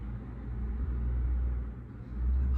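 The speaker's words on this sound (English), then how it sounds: "It sounds like the garbage truck is here." A garbage truck idles and rumbles outside, a low muffled engine drone heard through walls at moderate distance, swelling slightly toward the end.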